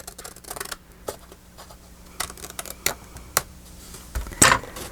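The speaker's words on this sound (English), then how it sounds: "so I need to go ahead and angle cut it just slightly." Scissors snip at an angle through a piece of craft paper for a flip-and-fold journal spot and ephemera holder, with several quiet clicks and short cuts scattered through, ending in one louder, sharper snip near the close.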